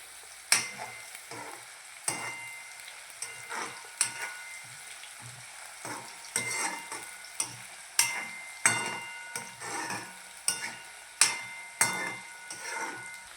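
Onions fry in a pan for a mountain-style lunch with kidney beans, with a quiet sizzle under repeated sharp scrapes and knocks of a spoon stirring them, close and without talk.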